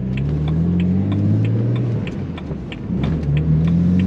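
A car accelerates hard with a loud, close engine rumble, the pitch climbing and dropping as it shifts up through the gears.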